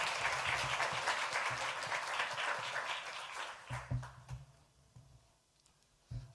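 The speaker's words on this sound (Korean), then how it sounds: "뜨거운 박수로 환영하겠습니다" A church congregation in Johannesburg claps to welcome a guest guitarist, a dense sustained round for nearly four seconds that thins into scattered claps and fades, with one last brief burst near the end.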